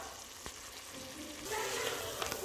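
Pork fat sizzles in a pan for a Filipino pakbet, a close, continuous hiss that grows louder and fuller halfway through.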